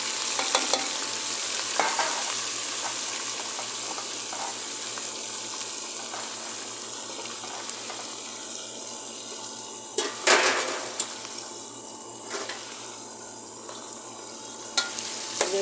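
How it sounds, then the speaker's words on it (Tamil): Onion and green chillies frying in oil with ginger, garlic, cinnamon, cardamom and cloves for a fish curry, a steady sizzle with stirring scrapes and a few louder clatters near the end. "வாடு வெங்காயம் பச்சை மிளகாய் ரெண்டையும் போட்டாச்சு"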